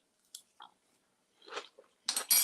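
Someone chews a bite of cinnamon toast crunch parfait close up, with a few soft separate crunches and then a louder burst of crisp chewing near the end.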